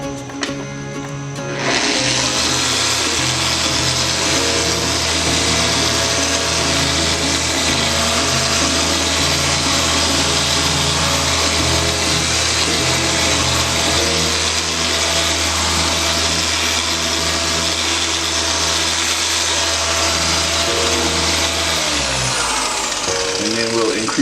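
A car polisher buffs a Honda Accord at around speed 3 during a rainy detail. The motor makes a steady, loud whir that runs close and continuous from start to end, with no other sound on top.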